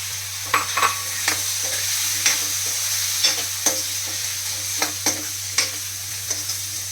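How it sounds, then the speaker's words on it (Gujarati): Potatoes frying with ginger in a pan for a Gujarati cauliflower-potato dish give a steady close sizzle, broken by regular sharp scrapes and clinks as a spoon stirs them, with no talking. "હવે આપણે એમાં પહેલા બટેકા નાખશું"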